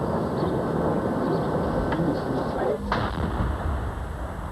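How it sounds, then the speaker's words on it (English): Mortar shells explode near a United Nations Protection Force headquarters under fire in 1992 news footage: a couple of sharp blasts cut through a constant rumbling roar, with voices faintly mixed in. "Exploding mortars once again sending the men in the blue helmets scurrying for cover."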